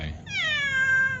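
One drawn-out cat meow, close and clear, holding steady for about a second over faint low background noise.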